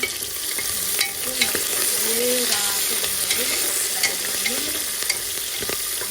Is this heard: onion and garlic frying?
yes